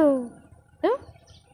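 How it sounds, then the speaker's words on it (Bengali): A parrot gives two short squawking calls, the first a drawn-out harsh note and the second a quick rising screech. "মিঠু পাখি"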